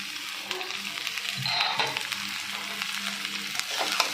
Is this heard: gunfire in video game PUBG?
no